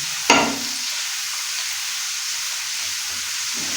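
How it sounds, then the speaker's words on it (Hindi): A spiced tadka for Pakistani dal mash sizzles steadily in hot oil, opening with a sharp clatter as it is stirred, then settling into a loud, even frying hiss. "तकरीबन इसको 1 मिनट के लिए हम बीच में बुनाई करेंगे।"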